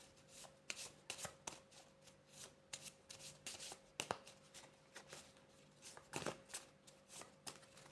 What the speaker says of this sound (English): we're just going to give this a little shuffle